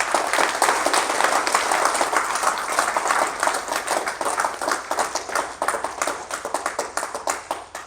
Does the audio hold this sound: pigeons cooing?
no